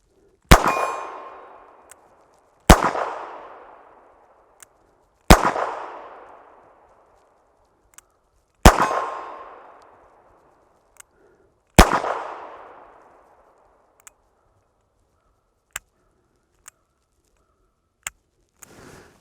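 Five loud, evenly spaced pistol shots at an outdoor range at 25 yards, each a sharp crack with a ringing metallic tail, separated by quiet gaps and faint clicks.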